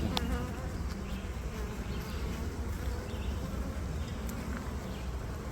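Honey bees buzz during a hive inspection, a dense, close, continuous hum of many insects that stays steady throughout with no talking.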